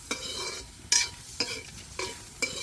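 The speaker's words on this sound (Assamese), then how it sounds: "মাছৰ তেলে মাছ ভজা নিচিনাকৈ গাহৰি তেলে একেলা গাহৰি ভাজি আছে" Pork fries in its own rendered fat in a pan, with soft sizzling under a few sharp scraping stirs of a utensil at regular intervals, close and fairly quiet.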